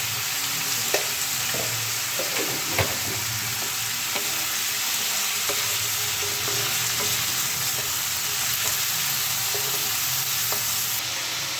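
Potatoes frying in a pan for alu posto, a steady loud sizzle with occasional stirring scrapes and clinks of a spatula against the pan.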